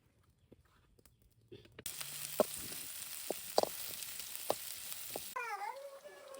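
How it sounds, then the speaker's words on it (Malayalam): Small onions dropped into well-heated oil in a pan, giving a steady frying hiss that starts abruptly partway in, with scattered sharp clicks and a brief warbling tone near the end. "എണ്ണ നല്ലപോലെ ചൂടായി വരുമ്പോ ദാ നമ്മൾ ചെറിയ ഉള്ളിയാണ് കേട്ടോ ഇട്ട് കൊടുക്കുന്നത്"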